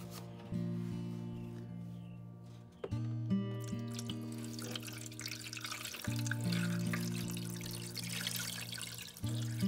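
Water pours into the reservoir of an Aerogarden indoor garden kit, a continuous trickling and splashing that grows fuller as it fills, broken by a couple of brief pauses and a faint electronic hum underneath.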